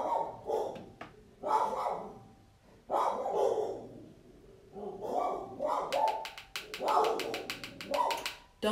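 A dog barks repeatedly indoors, several loud, close barks in uneven bursts with pauses between them, alongside light tapping sounds.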